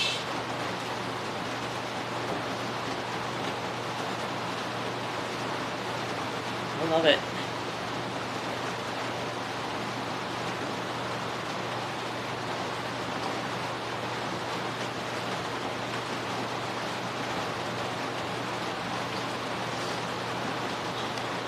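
Steady rain falls outdoors around a bus, a soft, even hiss that runs unbroken throughout, with a low hum beneath and one brief spoken remark partway through.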